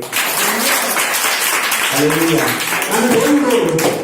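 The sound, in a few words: church congregation clapping hands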